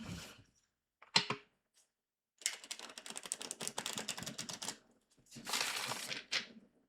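Crisp papery riffling and slapping in several bursts, like a deck of cards being shuffled close by, with brief quiet gaps between.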